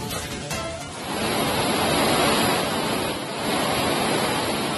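Floodwater of the Bhadra river at danger level surges over the submerged old Hebbale bridge in Kalasa taluk, Chikkamagaluru, during heavy rain: a loud, continuous broadband roar of rushing water, steady and close, with no voices.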